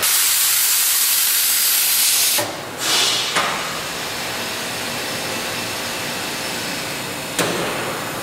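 A vacuum forming machine draws vacuum over a heated polystyrene sheet to shape a microchip tray, giving a loud steady rushing hiss that abruptly drops and settles into a softer continuous hiss, with a couple of brief sharp bursts.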